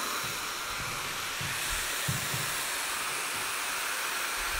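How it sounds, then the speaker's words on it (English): A Dyson blow dryer runs steadily as a broad, even hiss of airflow during a hair-styling session, with faint low thumps underneath and no pauses across the stretch. "I will use this nice Dyson blow dryer."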